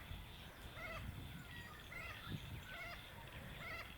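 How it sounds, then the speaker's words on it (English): Australian magpies call faintly in open bushland, their warbling phrases repeating every second or so beneath a steady low hiss of outdoor ambience. "magpies over yonder"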